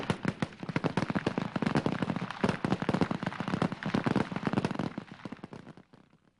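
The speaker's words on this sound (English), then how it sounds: "training is devoted to firing weapons at multiple and moving targets" Weapons fire in rapid, dense volleys during Marine Corps training on multiple moving targets. The sharp reports are packed tightly together and stay loud and continuous before fading away at the end.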